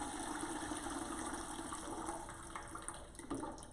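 Spiced apple cider pours through a pitcher's steaming vents, giving a steady rushing gush of liquid with a faint splash near the end, fairly quiet and without talk.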